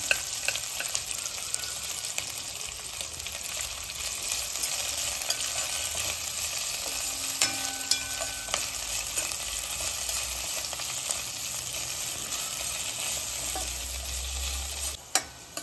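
Vegetables, including cabbage, being stir-fried for fried rice, a steady, close sizzle of frying with continuous stirring and a few clatters of the spatula near the end.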